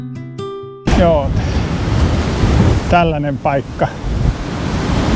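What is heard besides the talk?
wind at the seaside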